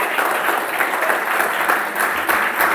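A church congregation applauds Jesus with dense, sustained clapping from a crowd, a full, even wash of hands that swells slightly near the end.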